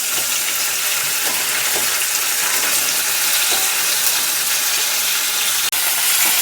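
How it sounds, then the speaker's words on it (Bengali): Paneer sizzles loudly in hot white oil in a pan, a dense, continuous hiss that stays steady throughout. "দিয়ে দিচ্ছি পনিরটা তেলের মধ্যে।"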